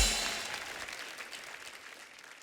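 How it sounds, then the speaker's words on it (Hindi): Audience applause at a comedy show, loud at the start and then fading into a scattered, softer patter of clapping over a couple of seconds. "इनके लिए एक बार जोरदार तालियां"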